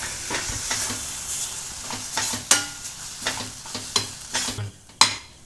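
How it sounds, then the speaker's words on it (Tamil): Ground spices — red chilli, cumin, coriander, turmeric and garam masala — fry in a pan for egg gravy, a steady sizzle broken by repeated scraping stirs of a spoon, close and loud with no talking. "இது எல்லாத்தையும் போட்டு நல்லா ஃப்ரை பண்ணுங்கள்."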